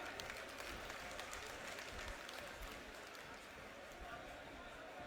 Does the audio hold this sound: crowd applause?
yes